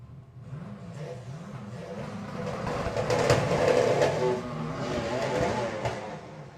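VW drag racing car making a pass at Santa Pod Raceway, a sustained engine roar that swells to a peak and then eases, heard from a distance under crowd and public-address ambience.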